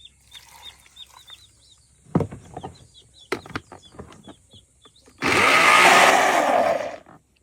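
A kitchen blender whirs to life, grinding kamias fruit with a little water in a loud, steady roar for about two seconds, after faint scattered bird chirps and a few knocks.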